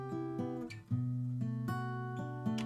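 Acoustic guitar within a studio mix, panned to the center, strumming chords with clear sustained notes at a faint, steady level, no voices.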